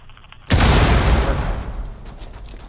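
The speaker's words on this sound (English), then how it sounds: "Throwing frag grenade." A frag grenade detonates in Rainbow Six Siege, a sudden loud boom after brief quiet, followed by a long rumbling decay with scattered debris crackle.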